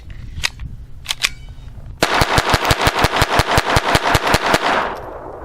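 A Kel-Tec P17 pistol fires two sharp shots, then a rapid, evenly spaced string of about sixteen loud, close cracks that ends abruptly.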